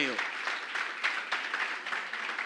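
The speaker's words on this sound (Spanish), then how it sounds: "Yo quiero que le dé un aplauso al Rey." Applause from a church congregation honoring the King during a sermon, a steady wash of many hands clapping at close to moderate distance with slight surges, continuous throughout the short stretch.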